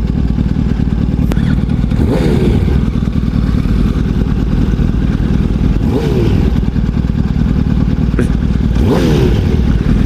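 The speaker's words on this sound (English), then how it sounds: "his bike is not running right properly. It's inconsistent RPMs." A motorcycle engine with a poorly running fuel setup revs unevenly, surging and dropping in RPM over and over with a clattery mechanical edge. It is loud and close throughout, and no one speaks.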